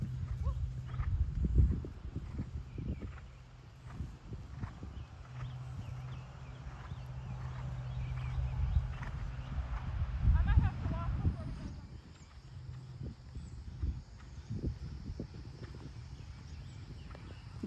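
Horse trotting on a flat surface, with a steady, repeated clip-clop of hooves that is moderately close and continuous, while a rider or trainer talks over the sound.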